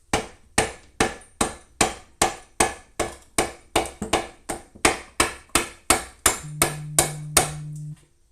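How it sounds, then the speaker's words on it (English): A solid lead hammer strikes steadily during disassembly of a Dana 20 transfer case from an International Scout: about sixteen loud, evenly spaced, ringing blows, close up, ending with a steady hum. "This is also a solid lead hammer."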